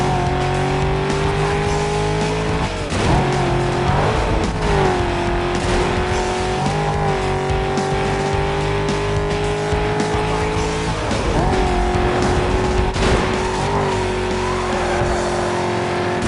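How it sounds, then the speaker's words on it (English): Chevrolet Corvette C6 racing in Need for Speed: Most Wanted, its engine loud and close, revving and climbing through repeated gear changes, with occasional tire squeal on turns, continuous throughout. "This car is a Chevrolet Corvette C6."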